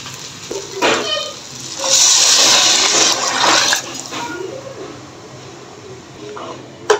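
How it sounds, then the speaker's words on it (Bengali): Hot water is poured into a cooking pan of fried leftover curry with meat, a gushing splash and sizzle rising and holding for a couple of seconds before tapering off, with a few clinks around it. "এখন আমি যে গরম জলটা করে রেখেছিলাম এটা দিয়ে দিব।"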